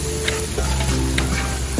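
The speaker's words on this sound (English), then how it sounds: "So we're gonna saute it until a little bit cooked" Chili pepper and spices sautéing in a pan for a lasagna meat sauce, a steady close sizzle with a few light stirring clinks and a sharp knock at the very end.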